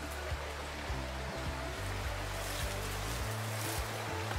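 A river in the Australian rainforest at Barrington Tops, steady broadband rushing water heard close and continuous, with low knocks and thumps running underneath.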